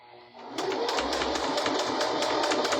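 A sewing machine runs steadily as it stitches a fabric bowl cozy, a close rapid mechanical whir with a regular needle clatter that starts after a brief quiet moment.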